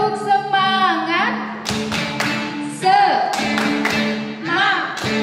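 Children doing the tepuk semangat clapping chant at a Sunday school service: a group voicing the chant with hand taps and claps in a quick rhythm, loud and close.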